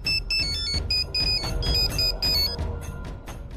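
A mobile phone ringtone plays alone, a bright repeating electronic melody of short tonal chirps in a steady rhythm, fairly close and clear, fading slightly toward the end.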